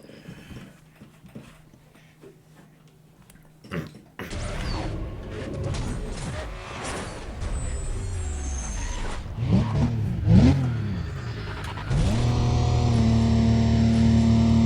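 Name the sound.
car engine revving in a race, video game Need for Speed: Undercover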